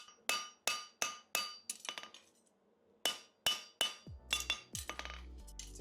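A hammer strikes the corners of a steel horseshoe being forged into a plain stamped front shoe, in sharp ringing blows. Two quick bursts of about five evenly paced hits each are followed by a faster, irregular flurry, close and alone.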